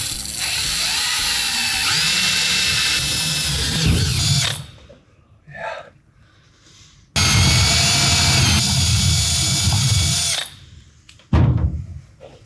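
A power drill bores through a metal support plate for a supercharger bolt on a 1989 Fox-body Mustang, two loud sustained whining bursts separated by a short pause with brief clanks and rattles between them.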